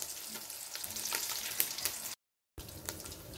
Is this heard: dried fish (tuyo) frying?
yes